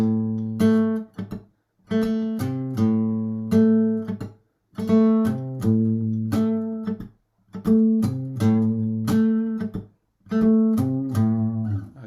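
Electric guitar plays a repeating octave riff in short rhythmic phrases, with brief silences between each phrase; no voices.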